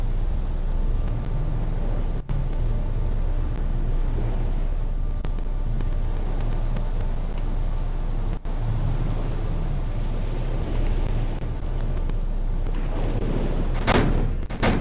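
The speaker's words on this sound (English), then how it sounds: "These are the anti-aircraft guns, which can be switched." Anti-aircraft guns firing from a warship in the naval video game Victory at Sea: Pacific. A few sharp reports cut through a steady, loud rumble of engine and sea noise.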